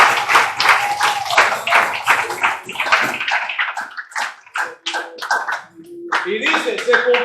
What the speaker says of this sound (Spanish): Denles ofrendas de palmas a Dios en esta mañana.